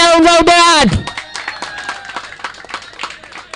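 Audience clapping at an underarm turf cricket tournament semi-final, scattered and uneven claps rising after a loud voice in the first second, then continuing under a moderate crowd din.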